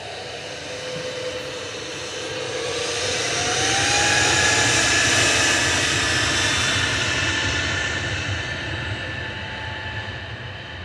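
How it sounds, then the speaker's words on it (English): A Pegasus Airbus A320neo jet lining up on runway 23 left at Manchester Airport gives a steady, moderately distant engine roar that swells gently and then eases, with a faint whine drifting in pitch. "Pegasus about to line up on 23 left"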